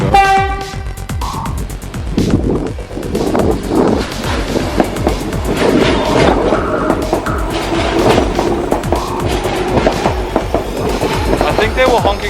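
A loud train horn blasts briefly near the start, then the heavy rumble and clatter of a passing train continues throughout.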